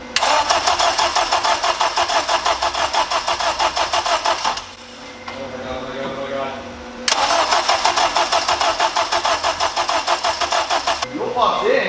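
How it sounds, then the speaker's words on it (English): Engine of a turbocharged 8th-generation Honda Civic on its first start attempt after a build, with steady rapid starter cranking in two long bursts separated by a brief quieter gap. "we're gonna data log this first start attempt"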